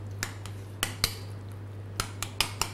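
A spoon clinks and scrapes against a bowl while crab, mayonnaise and tomato are stirred together, sparse sharp taps over a steady low hum.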